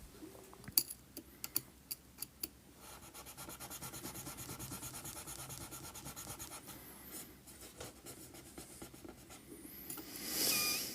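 A blade trims a glued part on a model building with windows and bargeboard details, opening with a few sharp clicks and then a soft, steady scraping rub, quiet and close.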